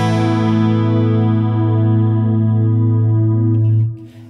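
A held guitar chord through an Axe-Fx III tri-chorus effect swirls with a lush, wavering shimmer, sustaining evenly for several seconds before being muted abruptly.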